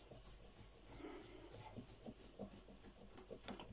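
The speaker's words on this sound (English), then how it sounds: "Rubbing in the oil." Oil being rubbed into a guitar fretboard by hand, a quiet, close, continuous rubbing and soft scrubbing with irregular strokes and no voices.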